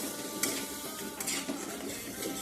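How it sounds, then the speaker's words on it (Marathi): Thick ground spice paste with chilli sizzles and spatters in oil while a spoon scrapes and stirs the pan, steady and close, for egg biryani. "पण तेल सुटूस तर ह्या मसाल्याला परतून घेणार आहोत"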